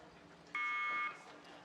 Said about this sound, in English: And they're off, the green light, the buzzer